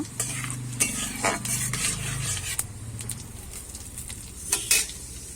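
A whole dried chili and cumin seeds tempering in hot oil sizzle and crackle close by, broken up by repeated spatula stirs and scrapes against the pan, with loud clattering bursts near the start and end.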